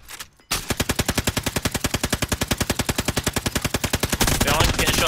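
Automatic gunfire in Warzone rattles off in a long, rapid, evenly spaced stream of close, loud shots after a brief quiet start, with game noise swelling near the end.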